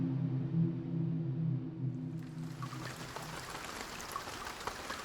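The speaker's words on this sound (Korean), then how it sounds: "비가 내리고 있었다." Steady rainfall fades in as a soft, even hiss of falling drops, with a low tone fading out at the start, used as an ambience effect in a Korean martial-arts audiobook.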